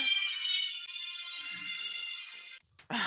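A phone ringtone playing a theme, a steady tonal melody ringing on for several seconds before cutting off abruptly, followed by a brief noise.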